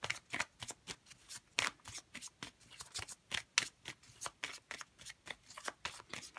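Tarot cards being shuffled by hand, a series of quick papery riffles and flutters in irregular bursts, close and fairly quiet with no talking.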